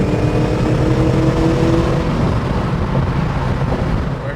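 A 1978 Aston Martin V8 Vantage with molded flip tail pulls hard in third gear, its engine a loud, rising roar heard from inside the cabin, with wind rushing over it.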